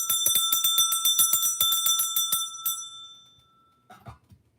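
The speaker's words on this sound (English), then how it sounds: "The bells of justice are ringing." Bells ring in a rapid, steady series of bright metallic strikes for about three seconds, then fall quiet before a brief softer jingle.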